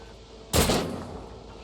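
A single loud gunshot from Warhammer 40,000: Rogue Trader cracks out sharply, then its boom decays slowly with a lingering reverberant tail over a quiet background.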